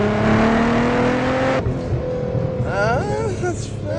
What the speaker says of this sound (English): you can hear the blow-off valves going